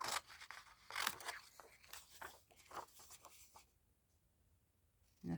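Scissors snip through a sheet of paper for a collage, a few close, crisp cutting and scraping strokes in quick succession, quiet and heard alone before falling silent near the end.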